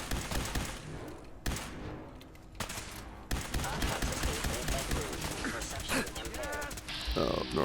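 Gunfire from the video game Fallout 4 crackles in repeated bursts, some sharp and heavy, mixed with a voice talking over the action throughout.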